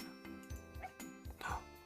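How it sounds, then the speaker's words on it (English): A small Pomeranian gives a few short, high yapping barks in quick succession, fairly faint, with quiet voices around. "Then from across the park, we hear a loud bark."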